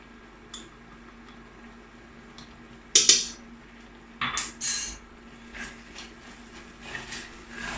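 A utensil stirs salt, ginger powder, cinnamon and turmeric into apple and onion chutney in a pot, a few scattered metallic scrapes and clinks against the pan over a quiet background.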